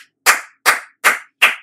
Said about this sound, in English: First, let me clap hands.